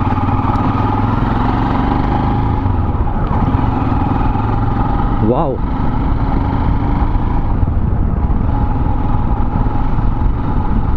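A Royal Enfield Himalayan BS4 motorcycle engine runs steadily after its first service, a close, loud, even idle with a continuous throb throughout, briefly overlaid by a short exclamation.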